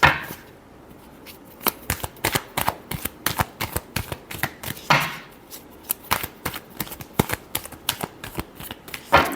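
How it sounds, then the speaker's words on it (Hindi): Tarot cards are shuffled in quick riffling bursts, a run of crisp slaps and flutters repeating every second or so, close and clear with no voices over them. "Last shuffle."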